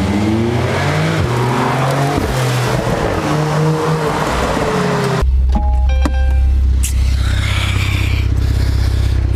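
A car engine revs loudly up close, rising and falling in pitch for several seconds, then cuts to a deeper, steadier rumble with sharp mechanical clicks and a brief high whine.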